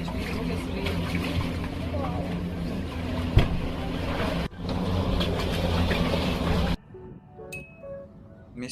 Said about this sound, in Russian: Тем временем лодка нас стремительно приближала к городскому пляжу